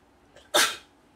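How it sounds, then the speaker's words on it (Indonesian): A single sharp sneeze, close and loud, preceded by a faint intake of breath, in an otherwise quiet moment. "satu kali bersin"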